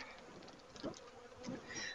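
Honeybees buzzing around an open hive during an inspection, a close, continuous insect drone with a couple of louder passes as bees fly near.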